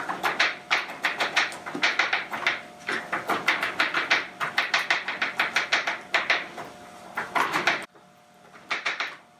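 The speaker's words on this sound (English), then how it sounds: "Now the garlic, I'm going to chop up a little bit." Garlic is chopped with a knife in quick, regular strokes, dozens of crisp close knocks in rapid bursts with a short pause near the end before a few more.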